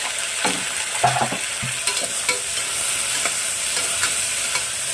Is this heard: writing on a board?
no